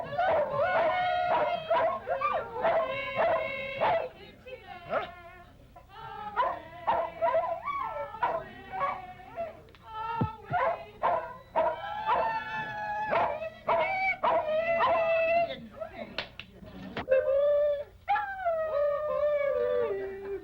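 Dogs barking, yipping and whimpering at an outdoor frisbee competition, a busy run of overlapping barks and howl-like cries with a crowd murmuring underneath.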